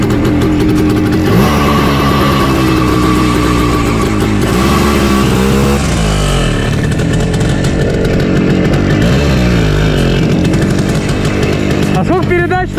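A pit bike motorcycle engine runs loud and close after a kick start, a buzzy continuous drone that rises and falls with revving, a voice briefly heard over it.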